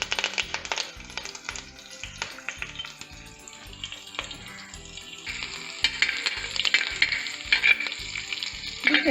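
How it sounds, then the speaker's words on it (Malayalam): Chopped shallots and curry leaves sizzle and fry in coconut oil in a pan, a steady crackling hiss with occasional stirring clinks and taps, close and continuous, growing a little louder toward the end. "ചെറുതായിട്ട് അരിഞ്ഞു വെച്ചിട്ടുള്ള 5 ചുവന്നുള്ളി നമുക്ക് ഇട്ട് കൊടുക്കാം"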